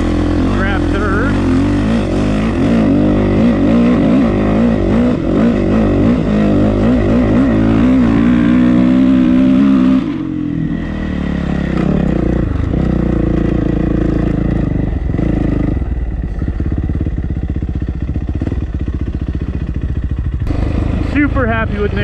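Engine of a Yamaha TTR50 dirt bike buzzing and revving steadily while a young first-time rider rides it on a hilly trail, the rising and falling tone loud and continuous, with a voice speaking over it.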